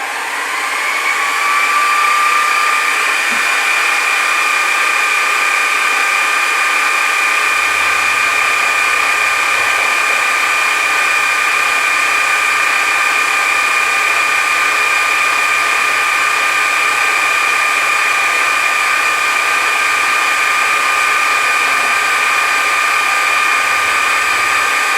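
A metal shaper machine runs a cutting pass during a gear repair, giving a loud, continuous whining hum with a steady high tone that holds for the full length, with only faint low rumbling and no speech.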